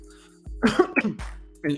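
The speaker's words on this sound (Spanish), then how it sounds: "que tuve una pequeña tos" A short throaty cough bursts out twice, close and fairly loud, followed by a brief third sound, over a faint steady hum.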